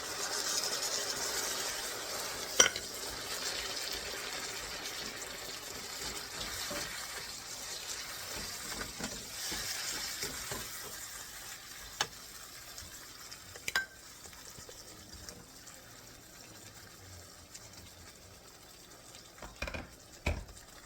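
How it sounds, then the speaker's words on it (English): Potatoes, carrots and coconut milk go into a curry cooking in a pot, with a soft sizzle, liquid pouring and occasional stirring clinks and knocks, close and quiet, with no talking. "Adding my potatoes and carrots in. A cup of coconut milk."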